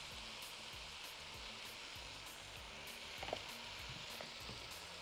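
Chicken pieces frying with onion, salt and black pepper in a pot while mandi is being cooked, giving a steady close sizzle with faint stirring scrapes and no talk.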